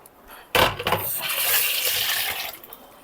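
Telangana-style natukodi pulusu, a country chicken curry, boiling in a pot as eggs are added: a sudden close splash, then a steady loud bubbling rush that fades slightly near the end, with no talking.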